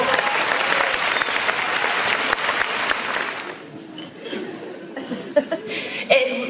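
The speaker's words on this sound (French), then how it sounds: "vous pouvez déjà vous applaudir" Audience at a live comedy show in Quimper applauding loudly for about three and a half seconds, the clapping then thinning out into scattered claps, chuckles and murmurs from the crowd.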